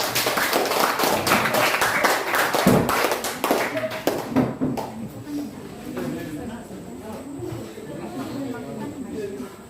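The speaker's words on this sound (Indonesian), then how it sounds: "Tepuk tangan untuk kelompok 2" A classroom group bursts into clapping for a team of students, a short lively patter of hand claps in the first few seconds that fades into room murmur and voices.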